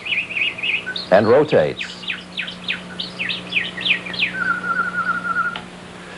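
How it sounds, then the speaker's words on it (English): A mechanical singing bluebird in a cage trills and warbles in a steady run of bright whistled chirps that ends in a long held note. A voice briefly speaks over the song near the start. "here, behind me in a cage, is a mechanical bluebird which actually sings"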